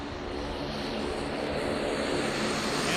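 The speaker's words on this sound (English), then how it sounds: "I believe this is Boeing's PC-12." A Pilatus PC-12 turboprop passes close by an airfield, its steady loud propeller and engine roar filling the air and swelling slightly as it goes by, with no voices.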